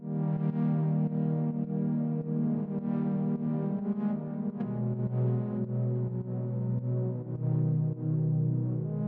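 Sustained synth chords from a Yamaha CS-80 synthesizer, warm and harmonically rich, held steadily with a chord change partway through, playing alone at a moderate level.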